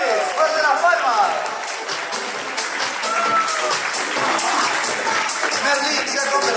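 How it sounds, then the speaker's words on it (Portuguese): Sustained audience applause fills a hall at the Golden Bridge Award ceremony as a winner is received. Loud, even clapping from many hands continues throughout with crowd murmur beneath. "¡Fuerte las palmas!"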